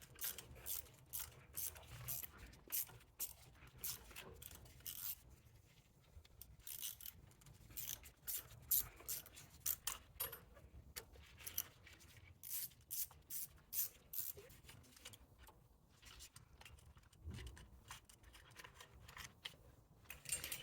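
A ratchet wrench with a T30 bit clicks in quick, uneven bursts while backing bolts out of a BMW X3 F25 parking brake caliper, the metallic pawl ticks close and fairly faint with short pauses between strokes.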